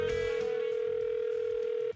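A steady single-pitch telephone dial tone hums on a radio call line for about two seconds, clear and continuous over faint background noise, then cuts off abruptly.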